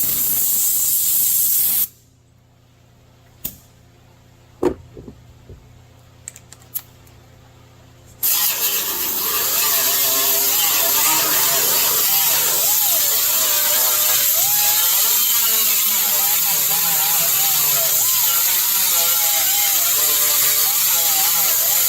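Angle grinder disc working down a weld on the pillar and rear window interior panel of a 1965 Chevy C10, starting after a quiet pause with a few clicks, then a loud steady high-pitched grinding hiss with wavering pitch, close and continuous.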